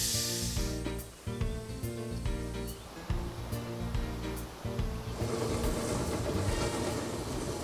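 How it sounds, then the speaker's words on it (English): A steam train rumbles along steadily, with rhythmic clacking wheels and periodic hissing bursts, moderately distant. "Charming steam train ambience was also offered"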